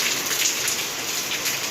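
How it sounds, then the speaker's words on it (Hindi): Light rain falls steadily in a garden, a soft, even hiss of drops pattering on surfaces close by, continuous and without voices. "अभी देखो बारिश शुरू हो चुकी है"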